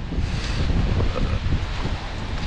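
Strong wind blows outdoors at a large abandoned farm, buffeting the microphone with a continuous loud, gusting rumble and no voices.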